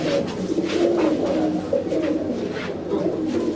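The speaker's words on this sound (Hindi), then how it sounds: "ये देसी कबूतर है, इंशाल्लाह देसी ही कबूतर लड़वाएंगे।" Domestic pigeons coo steadily and softly, several overlapping low throaty calls repeating close by throughout.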